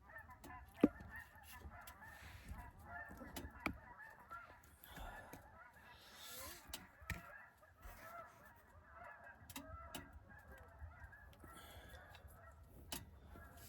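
Geese honk now and then as they fly over a snowy winter campsite, faint and distant, scattered through a quiet outdoor background.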